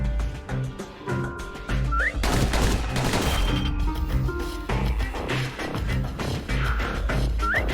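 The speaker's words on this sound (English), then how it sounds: "Pistols can spit out rounds just as quick as you could pull the trigger." Rapid pistol shots fired in the action video game Bastion, loud bursts of gunfire over a continuous game music backdrop with occasional chirpy effects.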